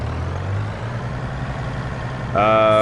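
A telehandler engine idles in Farming Simulator 25, a steady low diesel drone close by, joined near the end by a louder, higher engine tone.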